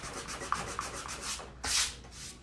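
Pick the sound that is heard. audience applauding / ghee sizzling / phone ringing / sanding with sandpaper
sanding with sandpaper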